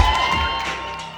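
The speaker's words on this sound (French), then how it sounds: "On fait un tonnerre d'applaudissements pour Bastien," A studio audience at a dating show gives a short burst of cheering and whooping for a contestant, a loud crowd shout that lasts about a second before cutting off.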